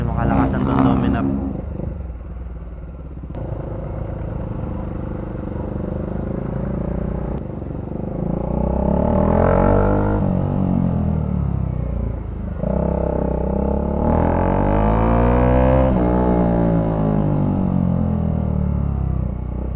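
A Bajaj Dominar 400 motorcycle rides along, its engine note rising and falling in swells beneath a rider talking steadily throughout.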